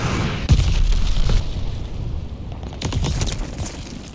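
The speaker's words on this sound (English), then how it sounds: "Friendly sending a glide bomb." A glide bomb explodes in Call of Duty: Vanguard ranked multiplayer, a sharp low boom that rolls into a sustained rumble of battle noise, with scattered impacts and crackle close by.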